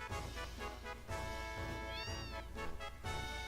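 Small cats meowing in Final Fantasy VII, a couple of high, sliding mews heard close over a steady, busy game soundtrack.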